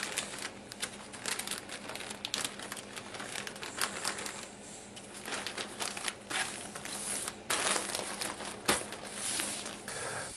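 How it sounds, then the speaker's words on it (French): Sawdust is filled into bags by hand, giving continuous crinkling, rustling and pattering with scattered sharper crackles for about ten seconds, no talk. "le remplissage des sacs est une opération un peu fastidieuse, car elle est totalement manuelle"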